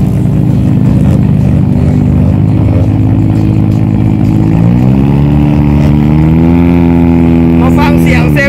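Mitsubishi Evo, Toyota GT86 and Subaru Impreza engines rumble together on a rooftop car park, a loud low drone whose pitch climbs midway as one revs up, with someone talking over them.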